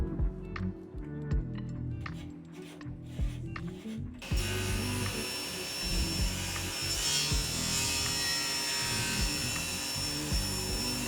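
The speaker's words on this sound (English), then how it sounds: "I started by ripping down the boards for the 3 pieces that make up the actual frame." A saw rips down wooden boards for a frame, starting with scraping, rasping strokes, then a table-saw-like whine that cuts in abruptly and runs steady and close through the rest.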